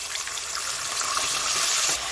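Tomato with a little harissa and a splash of water fries in a pan on low heat, giving a steady, close hiss and sizzle with no voices.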